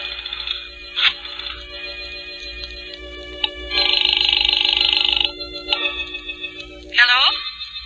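A telephone being dialed and ringing in an old radio drama: clicks and rotary pulses, a sustained ringing burst, then more bursts of tones and a final chirping ring, loud and close with no talk.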